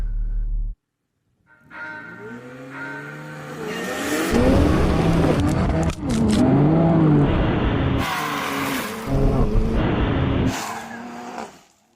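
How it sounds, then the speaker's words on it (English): BMW and Porsche cars launching off-road with launch control, engines revving loudly in overlapping surges with bursts of gravel and rough noise, following a brief quiet moment at the start. "So let's make sure that we can get launch control engaged."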